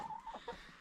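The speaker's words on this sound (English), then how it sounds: "There's our big Sussex rooster." A Sussex rooster makes a short, low clucking call, close by in a coop, with faint background hum.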